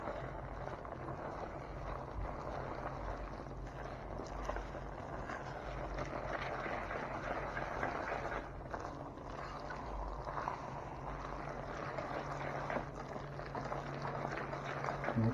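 Cooked macaroni is stirred with two boxes' worth of cheese mix, giving a soft, continuous wet mashing and squelching texture close by, steady and fairly quiet throughout.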